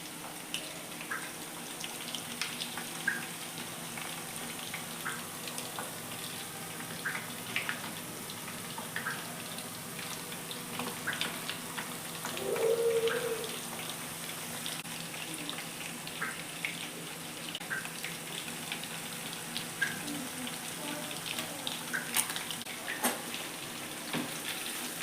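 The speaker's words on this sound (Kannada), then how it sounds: "ನೋಡಿ ಕಬಾಬನ್ನು ಎಣ್ಣೆಗೆ ಹಾಕಿದ್ದೇನೆ." Chicken kebab pieces deep frying in hot oil for chilli chicken, giving a quiet, steady sizzle with faint crackles and one brief louder bubbling burst midway, with no voices.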